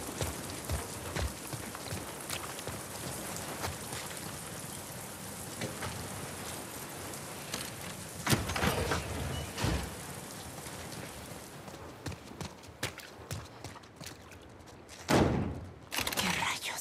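Steady rain in The Last of Us Part II pours down in a dense, continuous hiss, with a few heavier thuds and sharp impacts breaking through the downpour.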